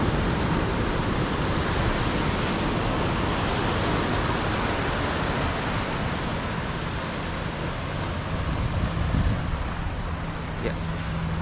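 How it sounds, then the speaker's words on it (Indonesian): Morning surf at Padang beach washes in as a steady, broad hiss of waves and wind, unbroken and fairly soft throughout. "suasana Pantai Padang di pagi hari."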